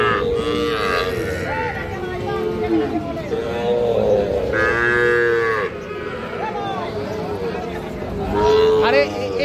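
Cattle and young calves moo repeatedly at a busy livestock market, with long, loud, close bellows rising over a constant hubbub of crowd chatter.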